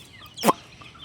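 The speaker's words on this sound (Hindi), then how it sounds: "ये देखिएगा मुर्गी ज़रा किस तरह इनको बुलाती है" A single short hen cluck, a call to her chicks, clear and close, standing out briefly against a quiet background.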